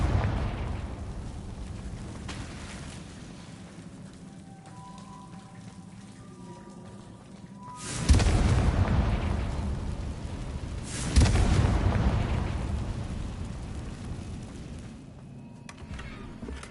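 The Confringo fire spell explodes in the Hogwarts Legacy video game, with two booming blasts a few seconds apart over a quiet, rumbling game background.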